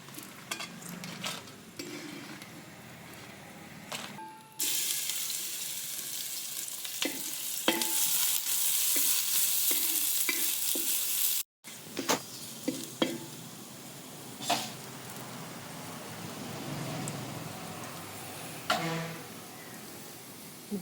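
Chillies roast in a pan for idli podi, giving a steady close sizzle broken by scraping and stirring clatter, with a short gap partway through and no voices.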